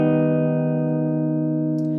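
A single augmented chord strummed on guitar rings out as one sustained, bright chord, close and clear, holding for about two seconds before a faint tap at the end.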